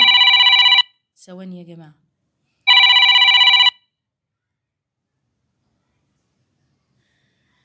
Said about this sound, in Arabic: مين اللي بيرن دلوقتي؟